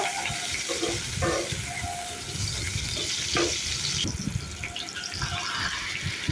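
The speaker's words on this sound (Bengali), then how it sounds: "এবার দিয়ে দিচ্ছি আলু আর টমেটোটা হালকা লাল করে একটু ভেজে নেব।" Potatoes and tomato fry in a pan with cumin seeds, giving a loud, continuous close-up sizzle with occasional stirring scrapes and no voices.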